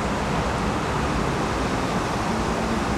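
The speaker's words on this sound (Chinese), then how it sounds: "让各位听一下后面的车流量的声音" Heavy road traffic passes behind a roadside spot, picked up by a wireless lavalier microphone with noise reduction switched off, a dense steady roar of vehicles and wind-like rumble with no talking.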